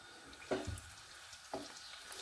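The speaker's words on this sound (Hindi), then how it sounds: "जिंजर और गार्लिक पेस्ट को तकरीबन 1 मिनट तक फ्राई करने के बाद" Ginger and garlic paste fries in hot oil, a soft steady sizzle with two brief stirring scrapes, close and quiet, with no talking.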